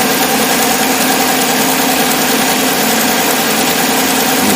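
A 2010 GMC V8 engine with a misfire runs loudly and continuously nearby, a steady idle with a persistent metallic rattle layered over the drone, loudest at the number 8 exhaust.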